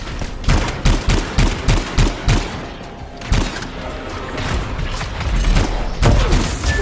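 Scar enemies firing guns in the Anthem video game: a rapid string of loud, punchy shots with thuds and booms, then more scattered bursts and a rumbling blast, with no voices.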